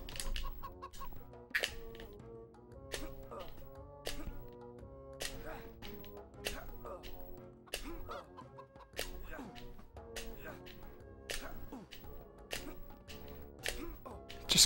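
Chicken clucking in the Shrek Extra Large video game, repeated short clucks and sharp percussive hits over a game soundtrack, fairly quiet, with someone talking now and then.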